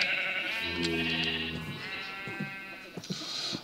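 Sheep in the video game Minecraft bleat close by, one drawn-out wavering bleat followed by softer overlapping calls and small clicks from game activity.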